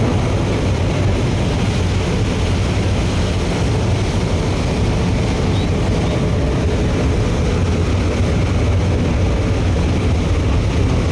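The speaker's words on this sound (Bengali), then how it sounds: "দুইটা ইঞ্জিনই কিন্তু ফুল দমে চলতেছে" Two engines running at full throttle pumping water and coarse sand, a loud, constant, droning mechanical roar with no pauses.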